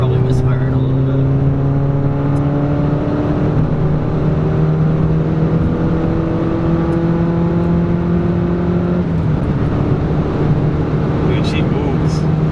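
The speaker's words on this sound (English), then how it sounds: "Love the turbo noise." A modified VW GTI MK6 with intake, tune and downpipe accelerates steadily from inside the cabin, its engine drone rising in pitch under a constant loud whir of turbo noise, with a brief shift near the end.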